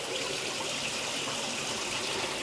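Water pouring steadily into a koi pond during cleaning, a continuous close rushing splash that stays even and fairly loud throughout without any voices.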